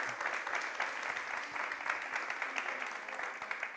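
Steady applause from a conference audience greets the closing panel, many hands clapping evenly throughout, fairly faint and distant, with no one speaking.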